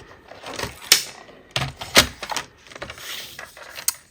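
A paper trimmer cuts a piece of cardstock diagonally, giving a few sharp sliding and clicking strokes with short pauses between them, close and clear.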